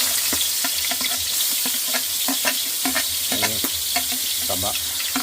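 Native chicken pieces sizzle loudly in hot oil, a dense continuous crackle broken by frequent clattering stirs of a utensil against the pan.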